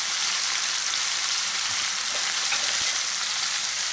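Beef tips searing fast in a hot pan, a dense, even sizzle held close and steady throughout, with a faint tap or two of stirring underneath.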